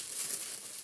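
Close crinkling of plastic protective packaging and paper receipts during a luxury birthday unboxing of Jimmy Choo and Gucci items, a brief dense rustle without speech.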